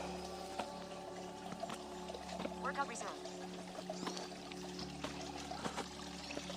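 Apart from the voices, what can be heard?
creek water flowing on trail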